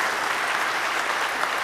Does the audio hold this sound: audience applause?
yes